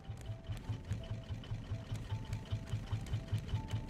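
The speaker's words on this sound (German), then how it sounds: "Boah, ich liebe das gerade mit dem Motor." A raft motor runs in the survival video game Raft, a fast, even putter of rapid mechanical pulses like a sewing machine, steady and moderately loud with no voices.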